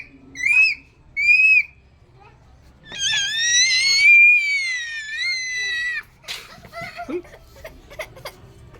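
Two young children whistle indoors, with two short shrill blasts followed by a long wavering whistle, then giggling and laughter close by.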